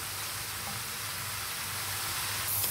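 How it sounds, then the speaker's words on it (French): Meat left to cook in a pan gives off a steady, quiet sizzle and frying hiss, unbroken for the whole stretch, with no voices over it. "Bon, on va laisser cuire la viande comme ça."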